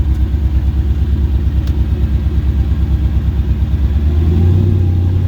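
A Ford Capri carrying a swapped Mercedes M113 5-litre V8 runs with a loud, close, lumpy idle that pulses rhythmically, its rumble swelling slightly near the end as the revs rise.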